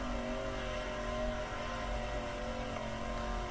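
A sprint car engine roars steadily at high revs in the World of Outlaws '23 dirt racing game, a loud continuous drone with no voices over it.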